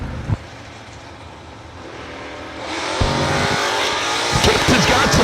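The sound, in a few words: drag race of Chevy II Nova wheel stander and S10 pickup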